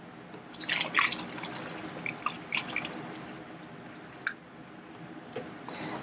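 Water runs into a bottle to fill it the rest of the way, with a soft, close trickle and scattered drips, starting stronger and settling into a quieter, steady flow.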